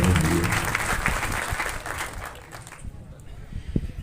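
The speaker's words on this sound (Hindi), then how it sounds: "ऐसे यूट्यूबरों के लिए एक बार जोरदार तालियां बजती है" Crowd applause at a Ram Janmotsav procession gathering in Byawara, loud at first and then fading into quieter background noise.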